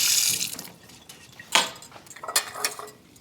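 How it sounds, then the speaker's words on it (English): Whisk rinsed under a kitchen tap, a faint hiss of running water with scattered splashes and light metallic clinks as it is handled. "I'm going to rinse this whisk and then I'm going to come back and whisk up the other one."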